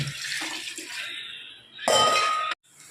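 Water pours into a cooking pot of rice for chicken biryani in splashing bursts, with a brief metallic clink, then stops abruptly before a softer trickle.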